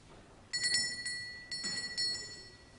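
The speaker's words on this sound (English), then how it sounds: "This time the bell, almost immediately you heard it coming from inside" A small bell rings in a quiet room during a staged séance, with three clear bursts of bright, sustained ringing tones, close and alone with no talk.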